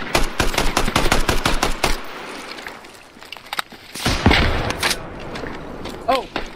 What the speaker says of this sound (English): Oh, I'm getting shot at again.